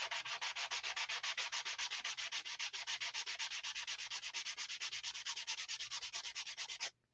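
Paper coated in Mod Podge is hand-sanded for a craft sign in fast, even back-and-forth strokes, a steady rasping rhythm that runs close and alone for about seven seconds before stopping abruptly.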